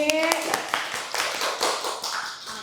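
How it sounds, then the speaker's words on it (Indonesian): Students in a classroom clapping hands, quick overlapping claps at moderate, fairly faint level, with a voice briefly heard at the start. "Boleh tepuk tangan dong buat diri sendiri."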